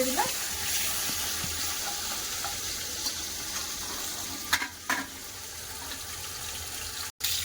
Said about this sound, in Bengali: বাকি মাছগুলো এরকম ভেজে নেবো সব মাছ